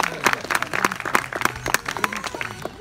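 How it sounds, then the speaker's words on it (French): An audience applauds at a sea lion show at an African safari park in Toulouse, France, with lively, uneven clapping from a nearby crowd that is loud and continuous throughout, with some faint voices mixed in. "Et elle redemande des applaudissements."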